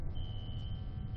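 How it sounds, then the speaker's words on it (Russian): Smoke alarm in the game F.E.A.R., a thin high-pitched steady tone sounding faintly over a low rumbling background for about a second. "пожарку надо выключить, она противно пищит так"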